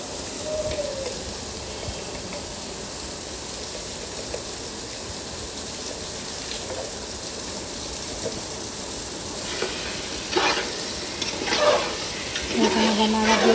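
Turmeric and chili spices stirred in a hot pan for bhuna khichuri: a continuous sizzle underneath, with a few sharper scraping stirs near the end.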